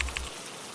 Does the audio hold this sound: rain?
yes